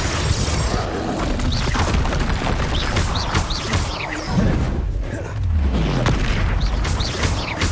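Confringo blasting spells exploding in Hogwarts Legacy amid a dense, continuous magical duel, booming blasts and whooshes layered thickly and loud throughout.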